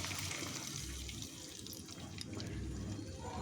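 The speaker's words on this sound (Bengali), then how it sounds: "এখন জল দিয়ে দিব।" Hot water poured into a pan of fried spices and chhana, a steady rushing, splashing pour that continues evenly throughout.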